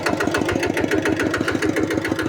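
A walking tractor's small engine idles steadily up close, its rapid, even chugging pulses running continuously with no voices.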